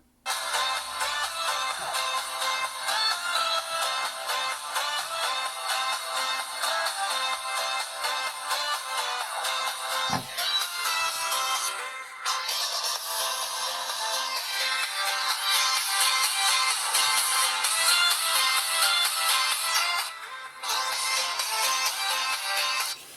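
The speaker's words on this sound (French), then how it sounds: "Audio avec une musique sans droit d'auteur de YouTube." Royalty-free music played through the small speaker of a Homtom HT30 smartphone, thin and bright with little bass, steady for the whole stretch with a couple of brief dips and a short thump partway through.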